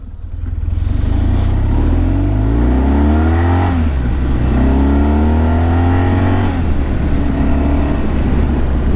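A 2008 BMW R1200 GS motorcycle engine revs hard under acceleration through a small wheelie, loud and close, rising in pitch twice with a brief gear-change dip between, with steady wind roar throughout.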